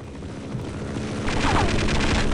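A helicopter makes another strafing attack pass in Half-Life, a loud, dense roar of gunfire and rotor noise that builds and grows heavier toward the end, with no talk.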